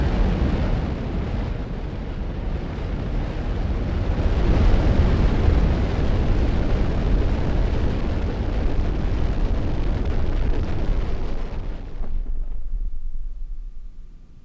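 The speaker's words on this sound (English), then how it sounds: "I think these rockets came from SpaceX. I mean, look, they land right on the pad where they launched from." Rockets roar down onto their launch pad in the game Automation Empire, a loud, sustained, thundering engine rush that holds steady for several seconds before cutting off abruptly into quiet.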